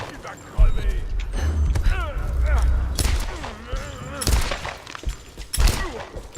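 Gunshots ring out in the Tomb Raider video game, a few sharp loud blasts spaced several seconds apart over game sounds, with someone talking throughout.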